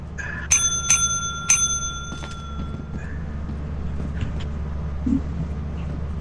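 A bell rung in the co-op horror video game Lethal Company, three bright metallic dings in quick succession followed by softer rings, close and loud over a low humming background.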